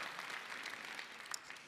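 An audience at a Brooklyn civic address applauds briefly, a faint, dense patter of many hands clapping heard from a distance and sounding continuous throughout.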